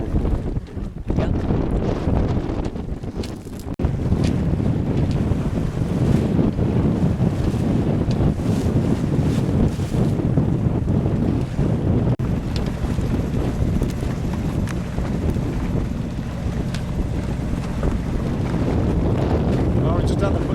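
Strong wind buffeting a sailboat at sea, a constant loud roar of gusts against the microphone mixed with rushing water, while people talk underneath.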